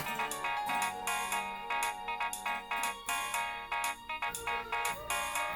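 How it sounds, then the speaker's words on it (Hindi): A phone ringtone plays a repeating melodic tune in loud, regular bursts, continuing steadily with no voices. "तुम्हारे फोन से मुझे कॉल क्यों आ रही है?"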